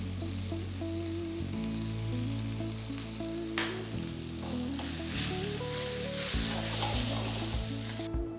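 Chicken noodles with fried peanuts and spring onion sizzle steadily in a hot pan while being tossed and mixed, with scraping stirs and a constant frying hiss, close and moderately loud.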